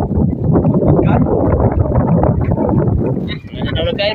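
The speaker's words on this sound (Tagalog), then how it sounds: "malakas na ang hangin" Strong wind buffets the microphone in a continuous loud rumble, with a voice briefly audible near the end.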